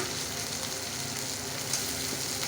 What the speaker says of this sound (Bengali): মাছটা ভাজবো আজকে বেশি ভাজবো না